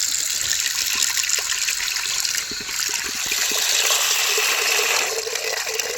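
Water pours and splashes continuously for several seconds, close by, with a brief dip in flow partway through.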